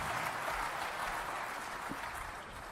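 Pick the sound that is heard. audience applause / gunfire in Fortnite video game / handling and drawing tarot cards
audience applause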